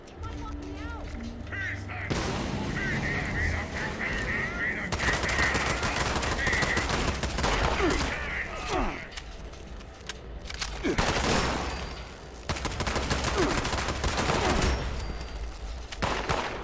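Rapid automatic gunfire from a gun in Fallout 76, long loud bursts of rattling shots with brief pauses between them, a voice occasionally under the shooting.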